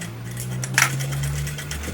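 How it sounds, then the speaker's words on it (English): A sewing machine runs while stitching a welt pocket closed, giving a faint, steady mechanical hum for about two seconds with a brief clicking bump partway through. "I will follow the same line of stitch close to my pocket. I continue stitching to close up my pocket."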